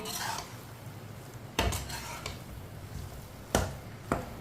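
A spoon stirs raisins into semolina halwa in a pan, sending a soft continuous scraping with a few sharp metallic clinks of spoon against the pan, close and quiet.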